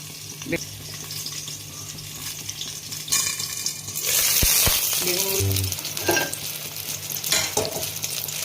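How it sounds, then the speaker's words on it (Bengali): Eggplant slices frying in oil produce a continuous sizzle that swells midway, broken by stirring and the clatter of a utensil against the pan. "বেগুনগুলো ভাজা হয়ে গেছে"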